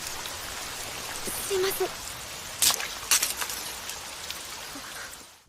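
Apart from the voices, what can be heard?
rain falling in anime scene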